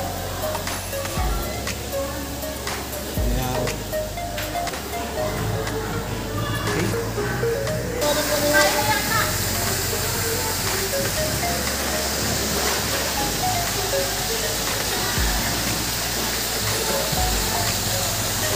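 Shower water sprays steadily beside a swimming pool during a birthday swim party, a continuous hissing wash that persists throughout at moderate loudness.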